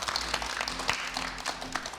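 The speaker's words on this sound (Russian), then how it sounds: "Здорово, аплодисменты." Audience applause at a panel discussion on higher education quality, a faint, fairly thin patter of clapping from a small crowd with a low hum underneath.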